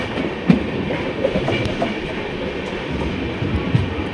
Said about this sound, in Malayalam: ട്രെയിൻ ഇതാ കൊല്ലം ജംഗ്ഷൻ റെയിൽവേ സ്റ്റേഷനിലേക്ക് എത്തിക്കൊണ്ടിരിക്കുകയാണ്